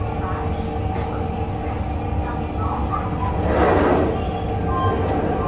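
Bangalore Rajdhani Express rolling away from Kazipet station after a short halt, a steady low rumble of carriages on rails with a faint swell of track noise partway through.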